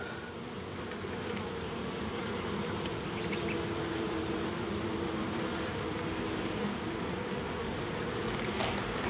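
Honeybees buzzing around a hive entrance, a faint, continuous low hum of many insects with no talking.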